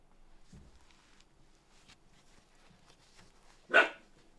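A dog named Max lets out a single loud, sharp bark near the end, following a quiet stretch with faint background sounds indoors.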